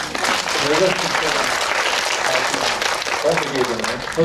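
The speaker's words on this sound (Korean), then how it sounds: "박수 한번" An audience at a film screening and talk event at COEX claps in a loud, sustained burst of applause, with a voice speaking over it.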